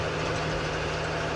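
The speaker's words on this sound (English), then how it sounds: "I'm hearing a lot of exhaust note" An off-road truck's exhaust rumbles in a loud, steady low drone with a throbbing pulse at idle, close and continuous for a brief stretch with no talk.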